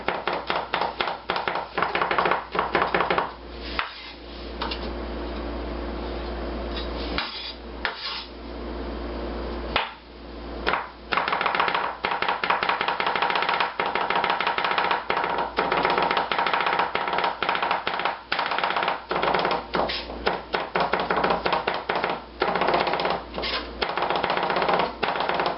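Garlic for a cheese and spinach lasagna being chopped with a knife on a cutting board, a steady run of close, crisp knife taps with a few brief pauses and no talking.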